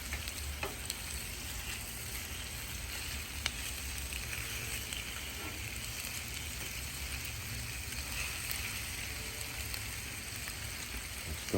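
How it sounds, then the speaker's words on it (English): Korean-style LA ribs sizzling and frying steadily in a pan, a continuous bright crackle with occasional pops, close and fairly loud, no talking. "We're just going to let them cook a little bit on that side."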